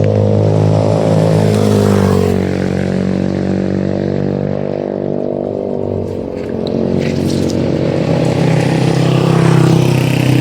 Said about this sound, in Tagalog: Yan, may motor na dumadaan.